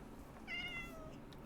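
A single Minecraft cat meows once, a brief harmonic call over a low steady background hum, fairly quiet and isolated.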